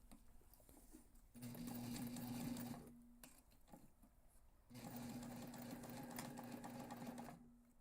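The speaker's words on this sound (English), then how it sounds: "Do the back stitching." Sewing machine back stitching a backpack seam, two sustained bursts of steady motor whir separated by a short pause, fairly close against quiet room noise.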